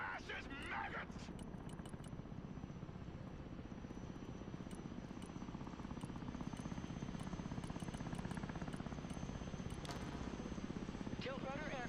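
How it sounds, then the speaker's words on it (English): Tiltrotor aircraft in the real-time strategy game Broken Arrow, a steady rotor and engine drone, loud and continuous, with faint speech at the start and end. "Tiltrotor aircraft here."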